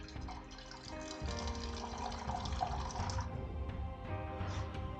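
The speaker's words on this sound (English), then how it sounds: "zero your scales on grams and put 160 grams of hot or boiling water" Hot or boiling water pours onto kitchen scales while making hot water crust pastry, a steady close splashing trickle that runs for several seconds without talk.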